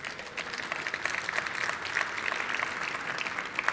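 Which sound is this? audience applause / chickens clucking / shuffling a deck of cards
audience applause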